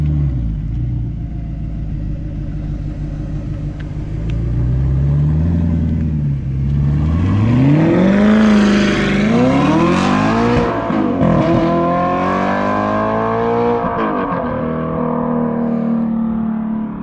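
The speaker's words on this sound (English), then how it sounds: "The exhaust note from that thing is so different." A Ford Mustang GT with a straight-pipe exhaust idles with a rough, loud rumble, then revs up repeatedly in rising and falling sweeps before settling back to idle, close and dominant.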